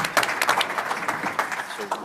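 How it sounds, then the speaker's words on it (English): Brief burst of audience applause closing a panel session at a California tire conference, moderate and uneven with scattered claps and some voices mixed in. "Round of applause."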